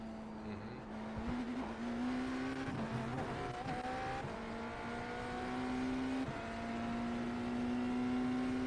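A race car engine in the iRacing simulator drones steadily through a corner, its pitch holding and shifting slightly, with faint tire noise underneath, moderately loud and continuous.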